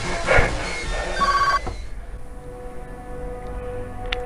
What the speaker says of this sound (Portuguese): Eu escutei um telefone.